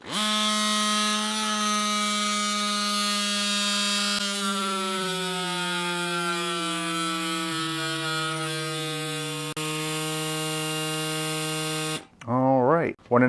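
CYCPLUS AS2 Ultra electric pump inflating a 42mm gravel bike tire to 50 psi, giving a loud steady motor buzz whose pitch steps gradually lower as pressure builds, then cuts off abruptly with brief warbling sounds at the end.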